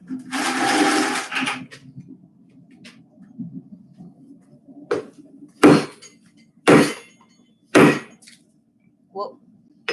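Hammer strikes on hot metal held against an anvil, shaping the shoulder of a forged leaf: several sharp, loud clanging blows spaced about a second apart, following a burst of broadband noise and low background rumble.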